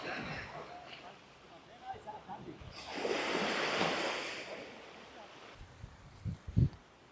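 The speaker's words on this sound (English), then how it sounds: "Hearing these waves crash against each other, against the coastline." Ocean waves surge and wash onto the Valencia coastline at a beach after floods, a broad rushing swell building midway under wind noise, with a person talking over parts of it.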